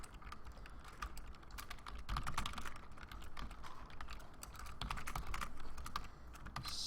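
Continuous computer-keyboard typing while writing code for a grid-movement dungeon crawler, with a steady stream of close, quick key clicks and occasional louder strokes across the whole stretch, no talking.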